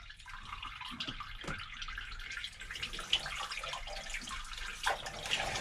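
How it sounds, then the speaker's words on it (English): Water trickles and splashes steadily through a hose pipe with scattered drips and small gurgles, fairly quiet and continuous throughout. "So the water is on, and it's hopefully going through the system getting any air locks out"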